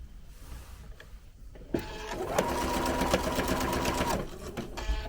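A sewing machine stitches down the centre of bias binding along the edges of chenille fabric, starting abruptly into a loud, steady motor whir with rapid needle chatter, running for a few seconds, then slowing and stopping.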